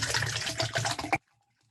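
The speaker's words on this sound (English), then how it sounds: "Started filling up my water." A water bottle filling from a tap: a close, bubbling, gurgling pour with a pitch that shifts as it fills, cutting off abruptly into silence after about a second.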